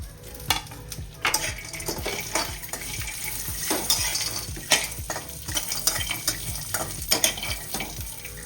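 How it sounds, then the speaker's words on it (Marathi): Mixed dry fruits lightly roasted and stirred in ghee in a pan for nourishing laddus: steady sizzling with rhythmic scraping and stirring strokes, close and continuous, with no talk. "हे सगळं एकत्र भाजायचे आणि ते पण अगदी हलकस भाजायचे"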